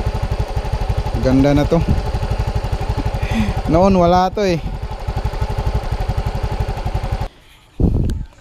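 A Yamaha Mio i 125 scooter idles after a throttle body cleaning, a steady close putter with a rapid even pulse under someone talking. It cuts out near the end before a brief restart burst.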